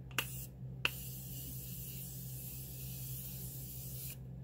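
Morphe Continuous Setting Mist is sprayed from a pump bottle close to the mic: two short clicks, then one long, even, fine hiss that lasts several seconds and cuts off abruptly, with no talk.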